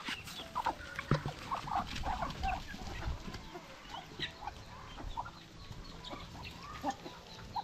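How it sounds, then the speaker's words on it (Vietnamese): A crowd of chickens and Muscovy ducks clucks and calls nonstop, with scattered squawks, some close and some farther off, several dozen birds, and no talking. "vịt xiêm vừa gà."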